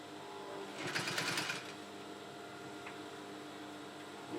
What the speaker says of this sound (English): I'm going to stitch this